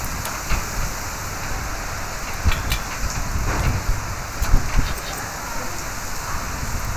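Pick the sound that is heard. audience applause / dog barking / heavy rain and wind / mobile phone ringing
heavy rain and wind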